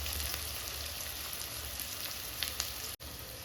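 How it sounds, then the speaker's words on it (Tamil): Small and large onions frying with salt in a pan, a steady soft sizzle with faint crackles and a brief stir near the end. "சின்ன வெங்காயம், பெரிய வெங்காயம் கலந்து, வெங்காயம் நல்லா வேகிறதுக்காக உப்பு"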